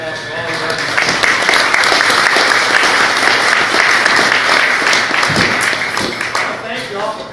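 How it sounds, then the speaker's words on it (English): Audience at a political campaign event for Louisiana Governor Bobby Jindal breaks into sustained applause, loud and even clapping that builds within the first second and holds steady before easing off slightly at the end. "Let's give another round of applause for all of us."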